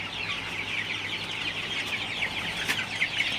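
Sonali super hybrid chickens about 45 days old cluck in a continuous, busy chorus of overlapping calls from a flock nearby, with no voices.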